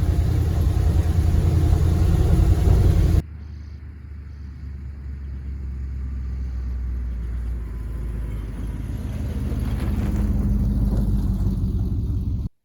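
A 1971 Ford F250 Highboy truck's engine drones steadily during a test drive, a continuous loud rumble from inside the cab that swells slightly as it accelerates, with no talking.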